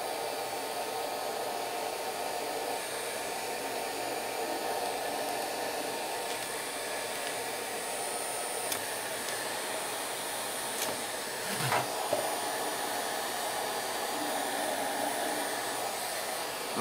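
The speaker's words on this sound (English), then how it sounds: "Put a little heat gun on it and see what we can do." A heat gun blows steadily on a Big Stick 40 model airplane build, a constant whooshing hiss of moderate loudness with a few faint clicks and handling noises partway through.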